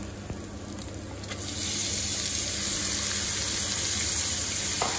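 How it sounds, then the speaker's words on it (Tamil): Prawns hit a hot pan of onions and ginger-garlic paste with a close, steady sizzle that swells after a second and keeps going. "இப்போ இந்த இஞ்சி பூண்டு பேஸ்ட் வந்து நல்லா வெங்காயத்தோட நல்லா வதங்கி வந்ததுக்கு அப்புறம் ஒரு 1/2 கிலோ prawns வந்து ஆட் பண்ண போறேன்"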